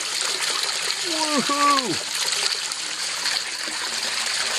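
Water rushes steadily through a gold prospecting sluice outdoors, a broad continuous hiss from start to finish, with a man's loud excited whoop over it partway through.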